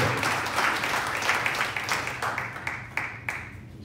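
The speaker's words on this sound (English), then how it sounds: "Y'all give a nice round of applause to my guy, Jeff Mundy" Crowd at a hip-hop marketing and branding panel claps for a panelist, loud at first, then thinning into scattered, distinct claps that fade over a few seconds.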